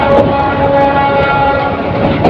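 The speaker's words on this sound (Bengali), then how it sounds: "কমলাপুর রেল স্টেশন থেকে বেরিয়ে আসছে ট্রেনটি" A Titas Commuter train pulls out of Kamalapur railway station in Dhaka, its horn sounding as one long, steady tone over a continuous rumble of wheels and carriages close by.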